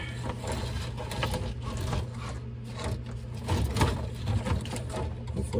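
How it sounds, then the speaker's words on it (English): Steering cable dragged through a pulley on a 1969 Glasspar Tacoma 14 boat, a close, continuous rubbing and rattling mechanical noise with a steady low hum, fairly loud throughout. "So we got one more pulley to pull through here."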